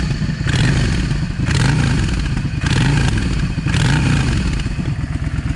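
A Yamaha V Star 650 motorcycle idles as it warms up, a close, steady engine rumble that rises and falls with a lumpy, uneven rhythm roughly once a second, with some clatter and no talk.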